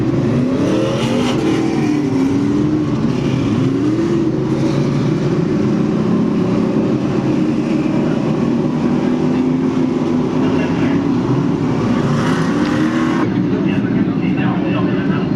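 Pro stock race cars at Riverside Park Speedway, a continuous loud roar of engines rising and falling as cars lap the oval, with a public-address announcer talking over it throughout.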